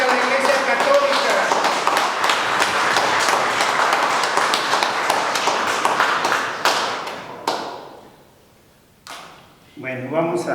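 A church congregation at a Catholic first communion service claps hard, dense and lively for several seconds, then the clapping thins to a few scattered claps and fades before a voice returns briefly at the end.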